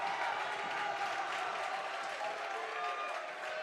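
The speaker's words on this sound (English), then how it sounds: "The crowd is getting loud here at North Hunterdon High School." A crowd roars and claps at a high school varsity boys wrestling dual meet in the North Hunterdon High School gym, a fairly faint, steady wash of cheering and applause with no clear voices standing out.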